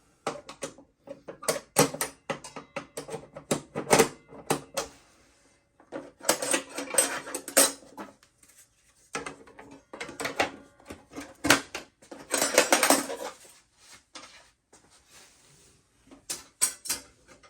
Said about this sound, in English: Put your riving knife back in place.